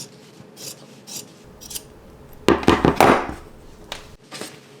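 Scissors trimming the seam allowance of a fabric pocket, a quick burst of several crisp snips at close range after a few soft rustles, with no talking.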